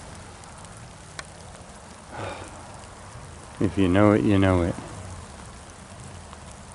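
Rain falls steadily after a long hot, dry spell, a soft continuous patter on surfaces throughout, with someone speaking briefly partway through.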